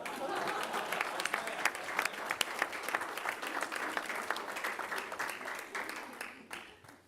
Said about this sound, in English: Tracy one more round of applause.